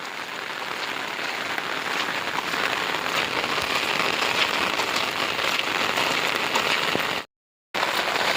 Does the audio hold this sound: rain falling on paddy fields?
yes